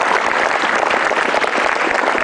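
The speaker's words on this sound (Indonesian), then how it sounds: "Tepuk tangan dulu." An audience applauds, a dense and loud burst of clapping that fills the short stretch without a pause.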